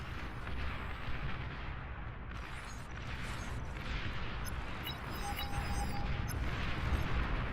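An enemy commander's destruction in the strategy game Beyond All Reason brings a dense, continuous rumble of explosions and artillery-like blasts, loud and steady throughout, with a brief high tone near the end.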